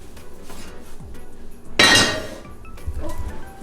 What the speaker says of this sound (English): Let's get it onto the cast iron.